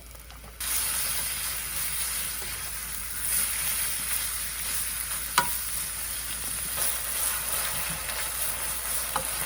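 Tofu and green chili fry in a pan with a sudden loud sizzle that starts near the opening and keeps hissing steadily, with occasional stirring clicks nearby and no talking.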